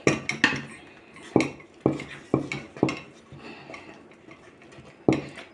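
Scraping and knocking of a utensil against a pot while stirring cornmeal porridge, irregular clinks and thuds spaced every second or so, fairly quiet and close.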